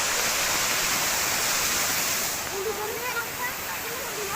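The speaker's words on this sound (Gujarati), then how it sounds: "આવી રીતનું પાણી પડે છે" A hillside waterfall pours in a steady, dense rush close by, with a faint voice barely emerging in the background toward the end.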